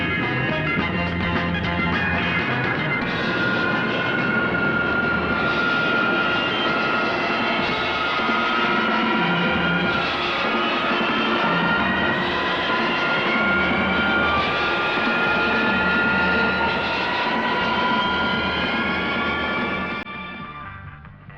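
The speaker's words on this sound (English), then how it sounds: "A B-52 simulates the steep approach of the space shuttle" A B-52 bomber flies a steep approach simulating the space shuttle's descent, its jet engines giving a loud, steady roar with whining tones that hold throughout before fading slightly at the end.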